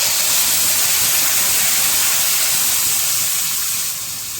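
Whole masala tipped into a hot pan already holding bay leaf and shahi jeera for paneer maska chaska gives a loud, close, steady hiss that eases off slightly at the end, with no talking.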